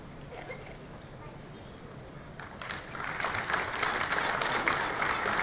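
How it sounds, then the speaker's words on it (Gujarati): Audience at a police felicitation ceremony in a Surat hall applauding to welcome dignitaries on stage, clapping swelling from scattered claps to a fuller round, heard over a public-address voice. "આપણે સૌ આદરણીય સૌ મંચસ્થ મહાનુભાવોને જોરદાર તાળીઓથી આવકારીને તમામ મંત્રી શ્રી દામજીભાઈ માવાણી"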